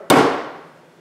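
A single sharp metallic hammer blow strikes a 25 crimp lug to widen it, loud and close, with a bright ringing decay fading over about a second.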